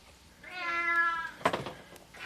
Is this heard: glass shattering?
no